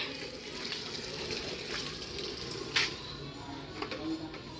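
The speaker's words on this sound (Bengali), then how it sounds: "মা গাছে জল দিচ্ছে" Water splashes and trickles steadily as potted plants are watered outdoors, a soft continuous pour with small splashes and one brief louder spatter, fairly quiet and without speech.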